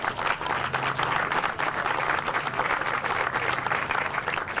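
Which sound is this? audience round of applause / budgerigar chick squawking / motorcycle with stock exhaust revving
audience round of applause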